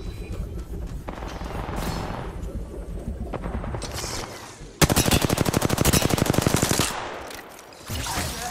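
Gunfire in the Apex Legends video game: sustained rapid automatic bursts, loud and close, with a dense rattling stretch in the middle and a final short burst.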